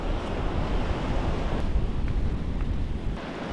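Sea waves surging ashore at high tide on Dublagadi beach, a continuous broad wash of surf mixed with wind buffeting the microphone, loud and steady throughout.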